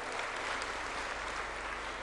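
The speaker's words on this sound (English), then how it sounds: "let's give them a round of applause" Audience applause for the semifinalists at the closing plenary of the Global Entrepreneurship Summit 2017, a dense, steady wash of many hands clapping throughout at even loudness.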